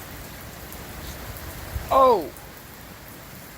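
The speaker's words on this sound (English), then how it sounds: "And the rain's coming inside the garage." Heavy rain pours into an open garage as a steady, even hiss. A voice briefly exclaims partway through.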